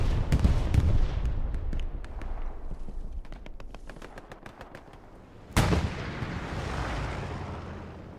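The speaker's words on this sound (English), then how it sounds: "Andreas loses the 1v1, but Blacks gets eliminated by the bombing run." Bombing-run explosions in Hell Let Loose, with scattered gunfire crackling at first, then one big sudden blast followed by a long rumbling roar, loud and without speech.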